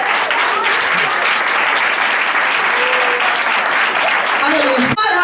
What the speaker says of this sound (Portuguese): É para você liberar a melhor salva de palmas para Jesus.